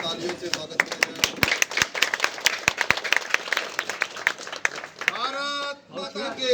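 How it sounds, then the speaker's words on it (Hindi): Audience at a political rally clapping in a dense, steady burst of applause, with shouts and a loudspeaker voice rising over the crowd near the end. "इनका जोरदार तालियों से स्वागत करें।"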